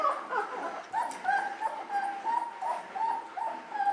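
An 18-day-old puppy whimpers repeatedly in high, thin whines and small yips while being weighed, close up and continuous over a few seconds.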